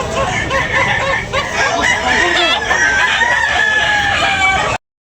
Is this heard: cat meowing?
no